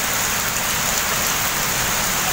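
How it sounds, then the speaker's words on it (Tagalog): Heavy rain falls in a dense, unbroken roar of drops striking nearby surfaces, loud and constant throughout with no talking. "lakas ng ulan dito sa bandang likuran"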